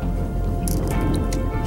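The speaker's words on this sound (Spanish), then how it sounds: "Pescadito al agua de vuelta." A small silverside caught while fishing at Villa Cañas is dropped back into the water, making a brief cluster of light splashes and drips over a steady low outdoor background.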